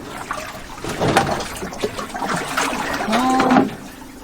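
Water sloshes and splashes from a bucket during a bucket wash on a sailboat, in a few close bursts that swell toward the end, with faint voices now and then.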